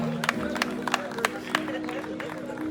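An audience claps along for a singer performing a song, with rhythmic, evenly spaced claps over a sustained musical tone and a low crowd murmur, moderately distant.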